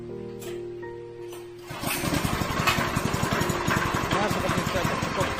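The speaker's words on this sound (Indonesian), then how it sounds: "langsung bisa dihidupkan mesin." An apung pellet machine's motor starts up and then runs with a steady, rapid, rattling engine hum, loud and close, with no talk over it.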